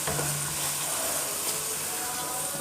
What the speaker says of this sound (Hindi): थोड़ी देर के लिए 2 मिनट तक भूनते हैं